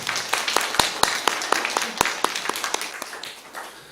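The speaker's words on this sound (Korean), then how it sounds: "우리 하나님께 큰 영광의 박수 올려드리도록 하겠습니다" A church congregation claps in a steady rhythmic burst of applause, many hands striking together in quick repeated beats that fade slightly toward the end.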